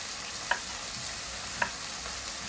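Steady sizzling of chicken hearts stir-frying in a hot pan, with a few sharp clinks of a utensil scraping the pan at intervals.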